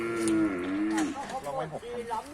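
Cattle moo loudly and close by at a roadside cattle camp, one long drawn-out call followed by shorter lowing from the herd, with faint human voices underneath.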